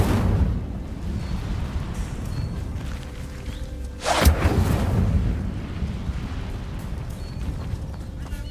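An Incendio fire spell cast in Hogwarts Legacy: a sudden whooshing burst of flame near the middle, loud and close, then a fading roar over steady background ambience.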